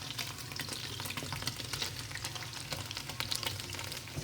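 Okra and meat fry together in a pot of hot oil, giving a steady, dense sizzle with crackling pops that runs throughout, close and fairly loud, with no voices.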